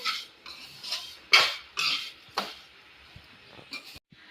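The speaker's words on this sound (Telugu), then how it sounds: "ఫస్ట్ కొంచెం నెయ్యి వేసుకుని అందులో సేమియా వేసి ఇలా దోరగా గోల్డ్ కలర్లో వచ్చే వరకు వేయించుకోవాలి" Vermicelli roasting in ghee in a pan, stirred with a spoon: a run of sharp metallic scrapes and clinks against the pan, several louder strokes in irregular rhythm, close and clear with no talk.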